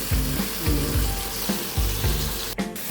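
Butter chicken sizzles and crackles steadily in a hot pan, with a repeated low scraping rhythm from turning or stirring, close and alone with no voices.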